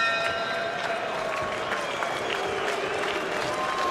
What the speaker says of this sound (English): Crowd showing some disapproval.